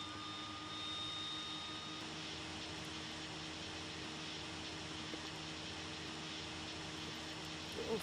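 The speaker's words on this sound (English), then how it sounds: "Fire the engines up here." Aircraft engines starting up in a flight simulator, with a steady broadband engine roar and faint tonal whine holding at an even level throughout and no talking.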